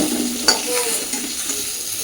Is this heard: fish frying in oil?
yes